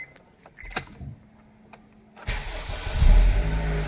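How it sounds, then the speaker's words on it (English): A 2004–2008 Honda Accord starts up: a few faint clicks, a brief whirring crank, then the engine catches and settles into a steady, fairly loud idle. "I start the car."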